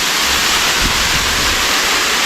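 A waterfall plunges about 100 feet into a limestone sinkhole in the Florida Panhandle, fed by a small creek, giving a loud, unbroken roar of falling water with no voices.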